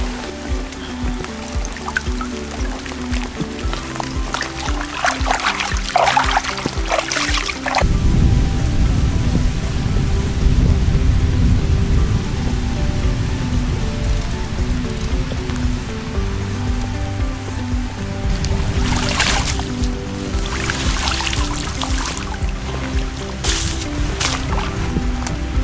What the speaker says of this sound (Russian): сейчас начинает идти дождь